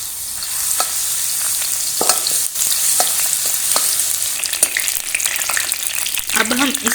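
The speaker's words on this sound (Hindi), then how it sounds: "घी गर्म हो चुका है। इसमें हम कुटा हुआ लहसुन डालेंगे।" Crushed garlic frying in hot ghee in a karahi, a steady close sizzle with scattered crackles and pops throughout and brief stirring scrapes near the end.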